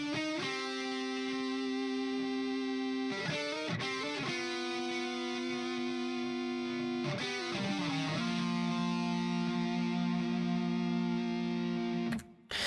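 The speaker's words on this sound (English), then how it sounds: "I used a distortion pedal for this sound going into the clean channel of my amp." A distorted electric guitar, through a distortion pedal into an amp's clean channel, plays a sustained metal lead melody, gritty and harmonically rich, holding long notes with occasional bends and slides, loud and alone.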